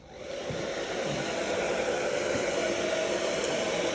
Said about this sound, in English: I'm going to blow dry your hair in a very simple manner.